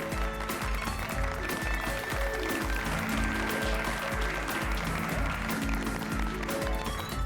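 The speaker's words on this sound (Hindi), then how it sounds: "बजाओ बजाओ, ताली बजाओ, ताली बजाओ" An audience claps on a comedy sitcom set, rhythmic crowd clapping that keeps a steady beat throughout, loud and sustained, with some voices mixed in beneath it.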